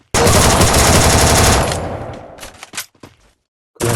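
A Thompson submachine gun firing in Free Fire: a loud, rapid burst lasting over a second, then a few scattered single shots trailing off and another burst starting at the end.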